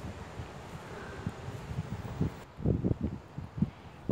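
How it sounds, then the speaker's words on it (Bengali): Strong wind on a sunny autumn day in Canada, gusting and buffeting against the microphone in uneven low thumps that grow rougher toward the end. "কিন্তু অনেক জোরে বাতাস।"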